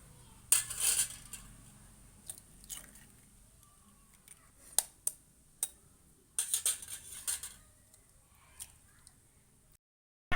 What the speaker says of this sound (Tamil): முட்டையை இப்போ உடச்சி ஊற்றிக்கலாம்